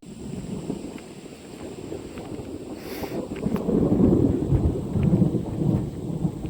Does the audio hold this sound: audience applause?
no